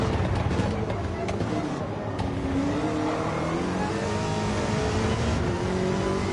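A race car engine in the Gran Turismo video game drones steadily at high revs through a lap, its pitch sweeping up and down through the gears while someone talks over it.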